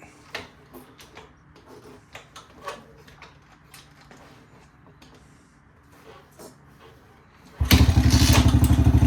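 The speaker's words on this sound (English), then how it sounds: "start up the bike, let it warm up a little bit, about a minute or so" Kawasaki KLX 110 dirt bike engine starts near the end after a stretch of quiet clicks and thuds, then idles loudly and steadily as it warms up.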